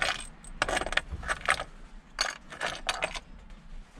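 A metal nut drops and rattles on metal parts during reassembly of a Peugeot 106 turbo after an engine swap. Bright, close metallic clinks and jingles come in several short bursts, with no talk.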